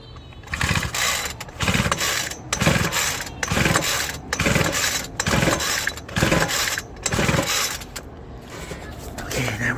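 Repeated pulls on the recoil starter cord of a Weed Eater XT200 trimmer engine with the choke off, during a compression test: about eight rhythmic rasping, ratcheting surges close to the microphone, each followed by a short gap.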